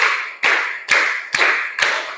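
Five or six evenly timed hand claps ring out in a classroom clapping exercise, spaced about 0.45 seconds apart, loud and close with a reverberant tail, and no one speaks.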